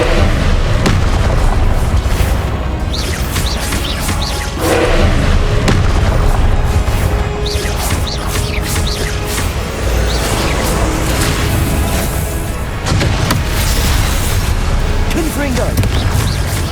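Confringo fire spell explosions in Hogwarts Legacy come as a dense, loud barrage of repeated booms and crackling bursts, mixed with sharp clatter and voices throughout.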